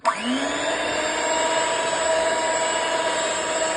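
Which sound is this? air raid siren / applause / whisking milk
whisking milk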